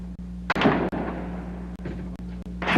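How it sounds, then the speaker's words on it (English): Bullets ricochet off the top of a tower during a gun battle: several sharp, echoing cracks at uneven intervals over a steady low hum, in an old field recording. "Ricochet bullets bouncing off the top of the tower."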